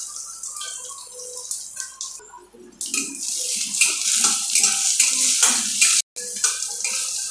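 Whole cumin, dried red chillies, cardamom and cinnamon sizzle steadily in hot oil in a pan as a tempering for chana dal, with a constant bright crackle and occasional scraping from stirring.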